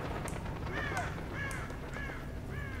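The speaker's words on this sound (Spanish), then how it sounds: "Estos cuervos hacen ruido, ¿vale? Lo puede oír todo el mundo" Crows cawing in the video game Hunt: Showdown, several harsh calls repeating about every half second over a steady ambient background of wind and environment noise, with no talking.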